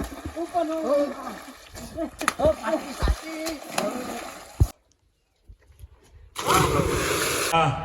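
A splash as a person is thrown into water at a resort pool, a sudden burst of churning water after a countdown and loud voices, followed by a short hush.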